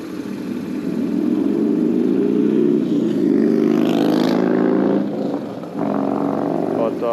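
A 22-year-old BMW RT touring motorcycle engine runs with a loud, steady low rumble that swells briefly as if revving, then settles back, with a voice talking over it.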